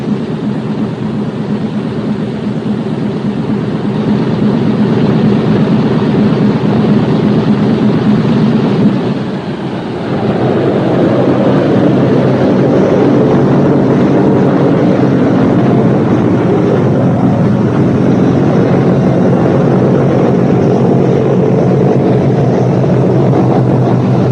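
Loud, heavy piston engines of a Boeing B-17 Flying Fortress bomber drone steadily, dip briefly partway through, then surge back up to a strong, sustained roar as they are revved.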